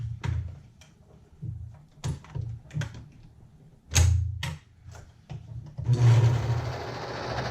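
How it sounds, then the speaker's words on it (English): A serger runs in short, stuttering bursts while stitching fabric around a jacket cuff, its motor humming close by, then settles into a longer, louder continuous run at the end. "do a serger stitch around"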